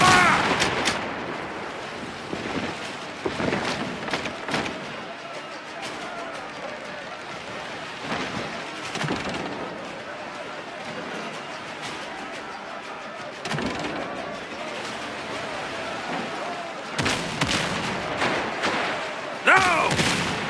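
Ship cannons firing broadsides in the pirate game Windrose, a series of loud booming blasts in clusters with rumbling tails over a steady wash of sea and wind, with voices calling out between volleys.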